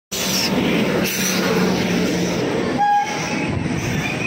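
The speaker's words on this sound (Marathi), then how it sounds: "ही बघा आमची ट्रेन आलेली आहे" Train arriving at a station: a loud, steady rail rumble fills the whole stretch, with brief horn tones near the end.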